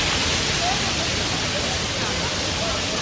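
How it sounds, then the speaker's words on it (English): A constant roar of rushing water from Cascade Mamzelle waterfall, a dense, even wash of noise close by. "top of the waterfall."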